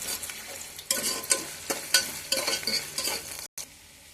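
Green chillies, onion and curry leaves fry and sizzle in a pan, with loud crackling bursts each time the mix is stirred and a brief drop to silence near the end.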